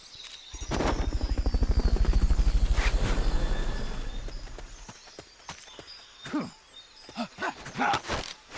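Helicopter in the video game Metal Gear Solid Peace Walker, a loud rhythmic rotor thumping that swells then fades over several seconds, followed by scattered footsteps and clicks.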